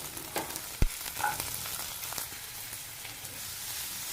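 Peas and chopped chili frying in a pan, a steady close sizzle with a sharp knock of the spoon against the pan and scraping stirs over it.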